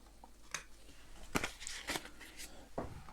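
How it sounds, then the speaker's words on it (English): A single card shuffled into a deck during setup of The Shores of Tripoli board game, heard as several separate soft papery snaps and rustles spread over a few seconds. "The third card is shuffled into the deck."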